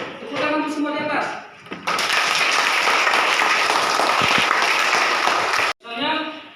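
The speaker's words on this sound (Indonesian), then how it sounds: "Tepuk tangan untuk semua di atas." Classroom of students clapping together, a loud, dense burst of applause lasting about four seconds that stops abruptly, with a teacher's voice talking before and after it.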